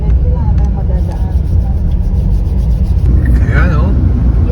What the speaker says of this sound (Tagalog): Yung traffic yan